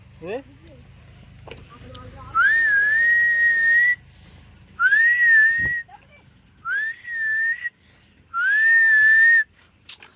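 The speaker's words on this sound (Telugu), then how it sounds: "అటు వెళ్ళి విజిల్ వేస్తా" A person whistles from a rooftop terrace where children are watching dogs, giving four long, warbling, fairly loud whistle notes in close succession with short gaps between them.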